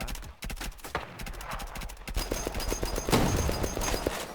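Rapid gunfire from a survival shooter game crackles through most of the stretch, dense repeated shots layered with game effects and mixed noise, loud and continuous.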